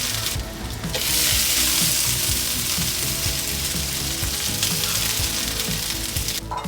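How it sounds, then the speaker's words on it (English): Fried beef and potatoes go into a hot pan with peppers for a Chinese black pepper stir-fry, setting off a loud, continuous sizzle close up with scraping stirring throughout. "Now toss in the fried beef and potatoes."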